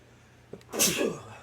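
A single close, sharp sneeze: a quick intake, then an explosive burst that fades out over about half a second.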